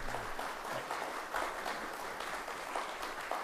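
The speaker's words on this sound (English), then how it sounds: "I guess I should have also asked for there to be no applause after each candidate" Audience applause at a city mayoral candidates' forum, a fairly quiet, even patter of clapping from a crowd heard at some distance, continuing steadily.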